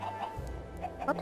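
Chicken clucking in Minecraft, a few short, close clucks in the game's sound, with a low background hum and no talk over them.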